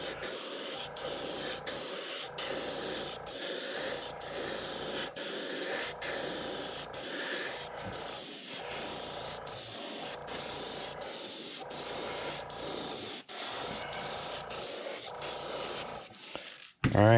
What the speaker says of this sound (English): the new airbrush I got is the Master